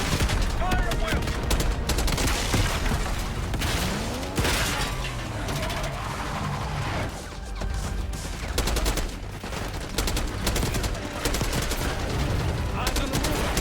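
Dense, loud gunfire from Call of Duty: Black Ops 6 rattles on continuously, with rapid automatic bursts and overlapping shots filling the whole stretch, while voices speak in the mix.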